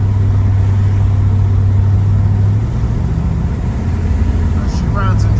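A 1963 Chevrolet Impala's engine drones steadily from inside the car while driving, a loud, continuous low rumble with road noise and no talk.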